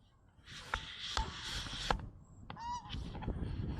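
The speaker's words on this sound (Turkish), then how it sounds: "Oo kazlar mazlar." Several geese honk nearby at a lake in Istanbul in short, scattered calls, some overlapping, over faint background noise.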